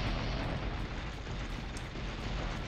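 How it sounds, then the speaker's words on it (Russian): Dense, continuous explosions in the PS1 game Apocalypse, a loud unbroken wash of rumbling blasts with rapid repeated bursts throughout, no talking. "Опять все взрывается, жесть какая."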